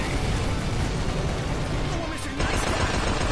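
A big gun fires in the video game Final Fantasy XV as a dense, continuous roar of rapid shots, loud and unbroken, with a brief dip before resuming.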